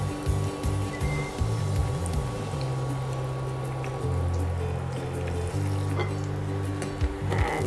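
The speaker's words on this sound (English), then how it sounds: "gently just fry them until they're golden brown and crisp" Aloo bread pakoras frying in hot oil over low heat, a steady close sizzle and bubbling that runs throughout with a few soft clinks.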